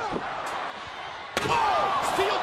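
A steel chair cracks down in a WWE wrestling match, a sharp loud slam near the middle amid crowd noise and excited commentary.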